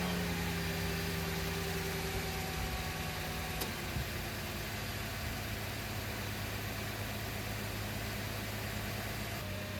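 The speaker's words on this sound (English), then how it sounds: "we're letting the car run, get up to operating temperature" A Subaru car engine, just fitted with a new radiator, idles steadily at close range, a constant low rumble and hum with a faint whine that stays even throughout, with one brief click partway through.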